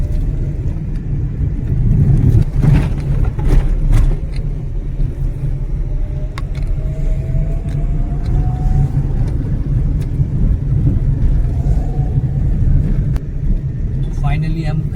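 A vehicle's engine strains steadily up a steep climb in first gear, its clutch plate struggling, on the road to Kachargad caves near Darekasa. The loud, continuous low rumble holds throughout while people talk over it.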